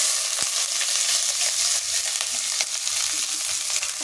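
Onions frying in hot oil with cumin and mustard seeds, a steady close sizzle with scattered pops and crackles, no talking.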